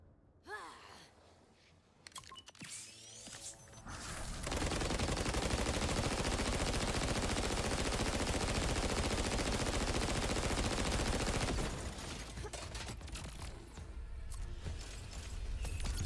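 Sustained rapid gunfire from the video game Borderlands 4 roars for several seconds, loud and dense, with scattered shots, game effects and a few short vocal gasps before and after the burst.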